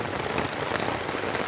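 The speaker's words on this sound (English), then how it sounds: "That's some pretty heavy rain." Heavy rain pounds a tarp stretched over a tent during a camping storm, a dense, steady, close patter of drops that continues without a break.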